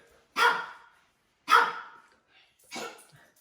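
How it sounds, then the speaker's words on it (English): Pet dog barking indoors during a music lesson, three loud, separate barks spaced about a second apart, close to the microphone with no talking over them. "we have a barking dog who wants to make sure that she is a part of the video"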